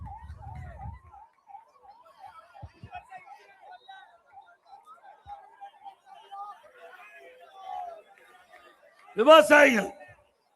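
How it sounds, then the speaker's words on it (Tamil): An ambulance siren wails in a steady repeating up-and-down pattern, moderately distant, beneath a crowd at a political rally where someone speaks loudly over the noise. "கொஞ்சம் வழி விடுங்க ஆம்புலன்ஸ் போறதுக்கு."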